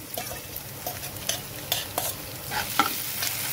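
Crushed garlic, chilli and onion with salt are stirred in a pan, repeated light scrapes and taps over a soft, steady sizzle.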